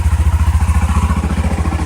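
A 2015 Honda CBR motorcycle on its stock exhaust chugs with a loud, rhythmic low pulse, steady throbbing firing beats close up and no voices.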